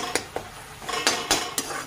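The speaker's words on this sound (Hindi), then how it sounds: "अब हम इसमें डालेंगे सब्जी और मिक्स करेंगे" A spoon scrapes and clinks in a pan as vegetables are stirred into a tomato masala, with several sharp strokes over a soft sizzle.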